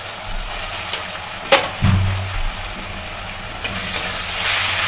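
Ginger-garlic paste hits hot oil with fried onion, cumin and bay leaf, giving a soft steady sizzle with a brief louder crackle and spatter near the start, continuing quietly throughout with no talking.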